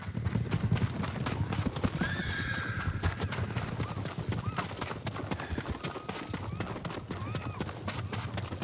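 Horses in the Ghost of Tsushima video game, near a battlefield, clop steadily with brisk hoofbeats while a clear neigh rings out early and softer whinnies follow over a low rumbling ambience.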